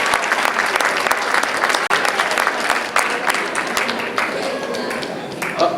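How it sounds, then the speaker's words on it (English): Audience at a magic and mentalism show applauding volunteers, a dense, steady burst of clapping that fills the room for several seconds, with a brief drop near the middle and a few cheers mixed in. "Please give them a nice round of applause for doing a wonderful job there."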